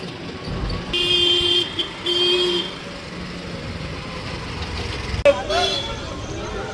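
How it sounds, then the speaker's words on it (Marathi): Auto rickshaws run through dense Sunday traffic near a temple in Ujjain, with engines droning steadily and horns tooting now and then, under a voice. "रिक्षा कंटिन्यू चालू आहेत, कंटिन्यू"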